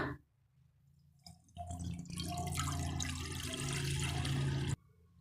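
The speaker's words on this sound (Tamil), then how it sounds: "இப்போ நம்ம இதில் தண்ணி சேர்த்துடலாம்" Water is poured from close by into a pan on a stove for steaming rava pudding, a splashing gush lasting about three seconds that stops abruptly.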